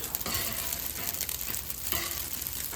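Steady crackling sizzle of yakisoba noodles soaked in sesame oil frying in a hot pan, with occasional stirring scrapes and no voices.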